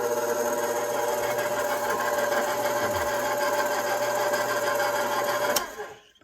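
A stand mixer runs on low speed, mixing flour into egg dough with a steady, close motor whir and a faint rhythmic rattle, then winds down and stops near the end.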